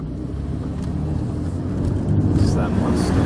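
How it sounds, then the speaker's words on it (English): A 1995 Oldsmobile 88 with the 3.8L V6 on a road test, its steady low engine and road rumble filling the cabin, close and continuous with wind noise, while people talk inside. "We're going to go on a test drive."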